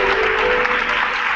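Church congregation clapping during an evening service, a brief dense burst of hand claps with a faint sustained tone underneath, no speech.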